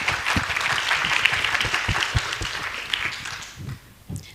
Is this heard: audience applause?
yes